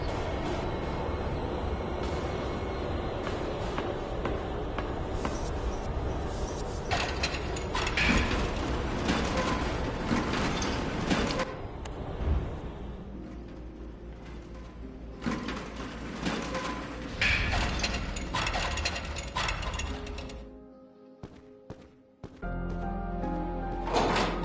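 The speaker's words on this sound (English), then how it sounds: "Oh, it's the elevator?" Elevator machinery in the horror game Tormented Souls grinds and clanks for a long stretch, with ratcheting mechanical rattles and scraping that swell and fade before a brief pause and a final clunk.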